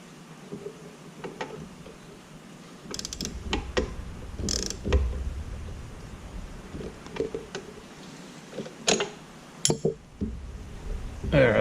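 Tightening a loose bolt on a John Deere 1 Series riding mower during a 200-hour service, heard as scattered metallic clinks, ratchet creaks and tool knocks, mixed with some talk.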